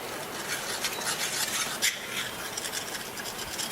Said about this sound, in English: Keep stirring it, let it dissolve.